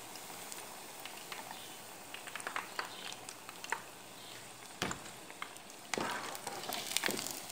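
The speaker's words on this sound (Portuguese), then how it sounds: "Pode deixar ele fritar um pouco mais." Kibbeh (quibe) of raw ground meat frying in hot oil, a steady soft sizzle with scattered crackles and pops that swell into louder bursts near the end, close by and without talk.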